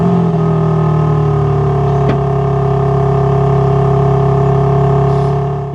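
A stock BMW M4 Competition engine revs steadily with a strong, droning exhaust tone, sustained and loud throughout, with a brief click partway through.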